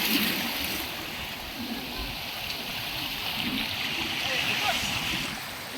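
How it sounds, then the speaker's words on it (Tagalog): Water laps and washes steadily at a white sand beach at a resort in Siruma, Camarines Sur, a soft constant wash with people talking nearby. "kung naririnig nyo na yung tubig, andito na kami"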